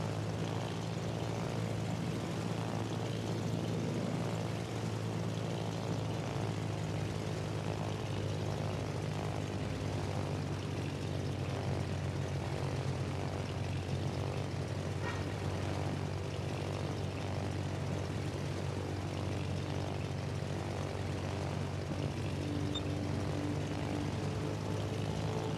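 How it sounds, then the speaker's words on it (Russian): Propeller fighter plane taking off from an aircraft carrier in World of Warships, a loud continuous engine roar with a steady low drone that holds evenly for the whole stretch. "Истребитель взлет произвел."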